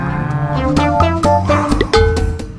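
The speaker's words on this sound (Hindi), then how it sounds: "अचानक रोड पे काफी सारी भैंसें आ गईं।" Several water buffaloes on a road low loudly and repeatedly, their deep overlapping moos close and continuous, with no talk over them.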